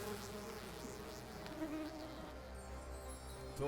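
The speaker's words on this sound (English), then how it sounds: "And let's summon that bee." Summoned bee in the video game Popup Dungeon, a soft wavering insect buzz rising and falling over quiet game background, fairly faint and without speech.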